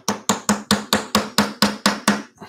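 Fluted wooden dowels being hammered into wood, about ten sharp, evenly spaced strikes in quick succession, close and loud, each with a short ringing decay.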